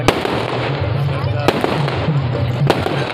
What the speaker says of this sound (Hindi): ये पटाखे